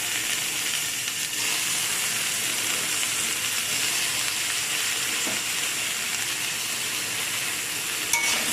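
Water spinach and potato stir-frying in a pan, a steady close sizzle and hiss running throughout with only faint stirring movement, no voices.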